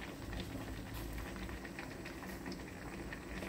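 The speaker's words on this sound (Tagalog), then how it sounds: "Kumukulo na po siya." A pot of water boils vigorously with bamboo shoots, a dense, continuous bubbling and popping patter at steady volume, close by.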